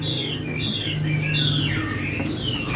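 European starlings call at a bird market behind a traders' area, a busy steady chatter of squawks, chirps and whistled notes mixed with other cage birds, continuous and fairly loud with no clear pauses.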